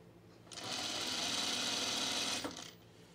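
A sewing machine motor whirs steadily for about two seconds while stitching a dress, a close, even mechanical buzz that starts and stops abruptly.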